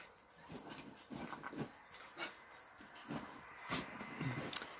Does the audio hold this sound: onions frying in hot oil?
no